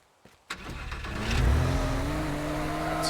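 A car engine in the Teardown video game starts and then revs up loudly and steadily, building into a sustained roar just before the vehicle crashes into a wall.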